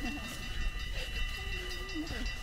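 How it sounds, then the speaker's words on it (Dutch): A train passes near the Bergse Heide with a steady rumble and hiss, and a high drawn-out tone runs across the middle of the clip. Talk is faintly audible beneath it. "Daar komt de trein."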